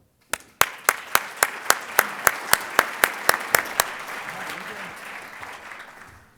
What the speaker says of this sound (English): I'd like for you to just give a round of applause to my membership committee